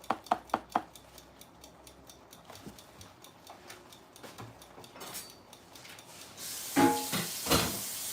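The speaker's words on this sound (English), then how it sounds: "Just washing up a few dishes." Dishes are washed in a home kitchen, with a quick run of sharp clinks and taps, scattered knocks of crockery, then running water hissing in near the end, fairly quiet.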